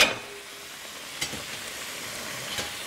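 Pieces of liver frying in a pan for an Egyptian dish, a steady soft sizzle running throughout with a few faint clicks and scrapes as the pieces are gently turned.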